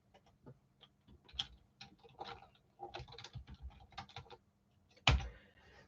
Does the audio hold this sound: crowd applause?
no